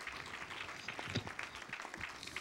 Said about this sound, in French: vous pouvez les applaudir tout le monde, hein?